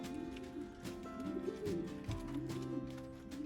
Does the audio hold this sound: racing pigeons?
yes